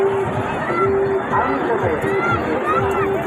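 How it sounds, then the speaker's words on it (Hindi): Dense crowd chatter at a busy Indian mela, with many overlapping voices in a steady, loud hubbub and footsteps and movement close by. "लेकिन मेला में देखिए कितना भीड़ है, बहुत भीड़ है।"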